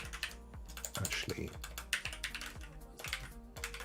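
Rapid clicking keystrokes on a computer keyboard, close and steady with a few heavier taps, carried along under a low background hum.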